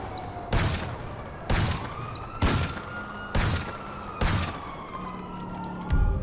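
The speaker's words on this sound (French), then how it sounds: "Donc ça, c'est le nouveau fusil à pompe de combat." Combat shotgun from GTA Online's Drug Wars update firing five loud, evenly spaced blasts about a second apart, each with a sharp crack and a short ringing tail, over steady background game ambience.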